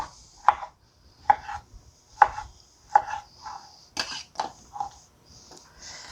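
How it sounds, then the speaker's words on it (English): Sharp, rhythmic chopping thuds from a hand-operated food chopper, about a dozen strikes at a steady pace, close and distinct with faint whirring between. "I'm going to use my manual food processor"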